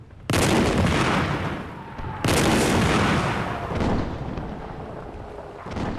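Battleship artillery fires in a war animation about Gallipoli, with shrapnel bursting overhead: two loud, heavy booms open long rumbling roars, and a third blast follows near the end.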